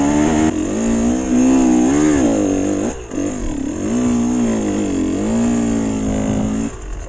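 A KTM 125 EXC two-stroke enduro bike on a new tyre revs hard up a small hill, its loud, close engine note climbing and sagging in repeated surges with a brief drop partway through.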